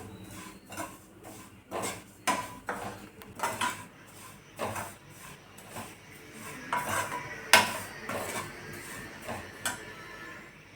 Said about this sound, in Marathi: तर हे छान भाजून घ्यायचं शेवया.